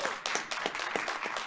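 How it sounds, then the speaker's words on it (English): Applause at a school board of education meeting: a small group claps in distinct, fairly regular strikes at moderate volume in an indoor room, with no voices over it. "That deserves a big round of applause"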